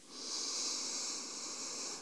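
Steady, airy ujjayi breath through a constricted throat with a soft hiss, held continuously for about two seconds like a slow ocean-wave whoosh, close and quiet, no talking.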